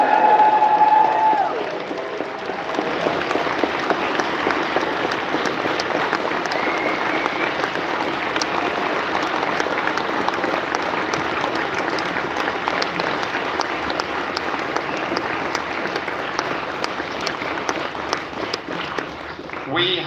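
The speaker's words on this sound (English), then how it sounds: "And now a big cheer, please." A large audience at a closing ceremony cheers and applauds continuously for twenty seconds, a thick, loud wash of clapping and crowd noise that stays steady after a brief tone fades at the start.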